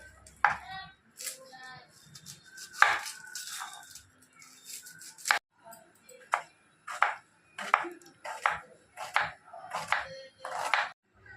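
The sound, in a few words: chopping mutton with a knife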